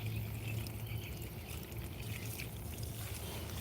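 Water pouring steadily over garden plants on a suburban homestead, a continuous broad splashing trickle with no break, close and fairly loud.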